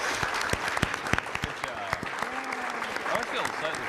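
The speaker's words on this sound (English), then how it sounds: "I always feel slightly funny clapping for the panel that I'm on" Audience applause for a discussion panel, moderate clapping with sharp individual claps standing out, fairly soft and somewhat distant, with voices murmuring underneath.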